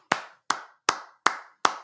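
One person claps five times in an even, unhurried rhythm, each crisp, close hand clap ringing out briefly into silence before the next, with no talk around it.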